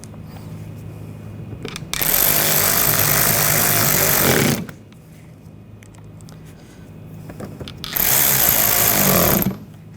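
A power driver whirs in two loud bursts, about two and a half seconds then one and a half, as it drives screws into the headlight trim of a 2014-2020 Nissan Rogue, with quiet pauses between.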